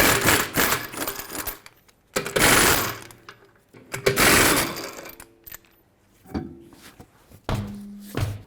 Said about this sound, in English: Use a 22mm socket to remove all 5 lug nuts and then pull the wheel off.